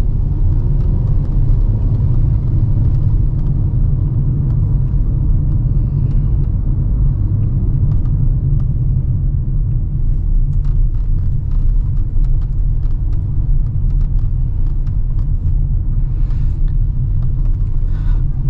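A Kia Stonic with a 4-cylinder engine and traditional automatic transmission drives along, a steady low engine and road rumble filling the cabin continuously with no talking.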